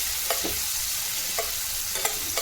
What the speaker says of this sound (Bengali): সেদ্ধ গাজরটা একটুখানি নেড়ে নিচ্ছি যাতে টেস্টটা ভালো হয়।